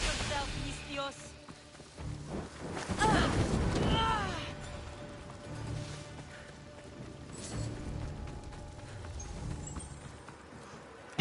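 Horse hooves clip-clop in Assassin's Creed Odyssey, an uneven burst of galloping strikes peaking midway over soft background game ambience, with someone talking over parts of it.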